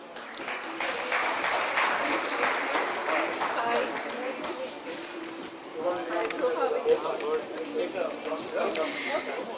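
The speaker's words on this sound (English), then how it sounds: "A round of applause for our speakers," An audience at a retail and e-retail congress applauds the speakers, with a broad wash of clapping that is mixed with chatter and voices throughout.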